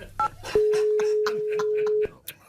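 A phone's DTMF dialing tones play as a steady sustained beep for about a second and a half, after a couple of short tones, set inside a voice-assistant call sketch.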